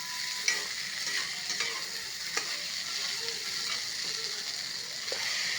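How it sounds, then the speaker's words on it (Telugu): Potatoes and beans frying in a pan for an aloo beans masala sabzi, a steady broadband sizzle throughout with a few sharp stirring scrapes and clicks, close and moderately loud, no voices. "ఇగో చూడండి వేగుతున్నాయి."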